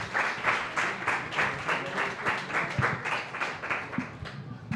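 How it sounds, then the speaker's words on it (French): An audience at a Montreal biodiversity presentation breaks into sustained applause, dense rapid clapping from many hands filling the room evenly for several seconds. "On lui donne une bonne main d'applaudissement."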